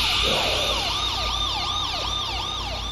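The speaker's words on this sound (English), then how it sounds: "Why they got them police sirens at the end?" Police sirens in the video game Friday Night Funkin', a wailing, rising-and-falling electronic siren repeating in quick sweeps, loud and close, with no speech.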